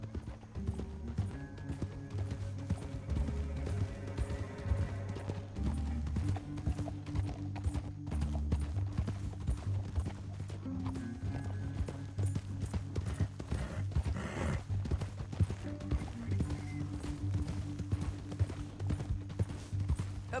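Horses in Red Dead Redemption 2 gallop with steady, rapid clip-clop hoofbeats over a continuous musical score, with an occasional whinny.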